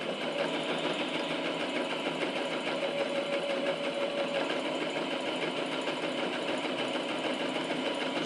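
A home sewing machine stitches a voile fabric pencil case in one steady, continuous whirring run with an even motor hum and rapid needle chatter, close and loud, with no talking.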